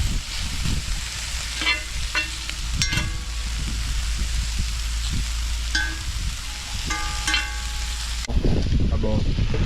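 Vegetables sauté in a hot pan with a steady, close sizzle and crackle. Scattered clinks and pops sound throughout, and the sizzle grows louder and harsher in the last moments.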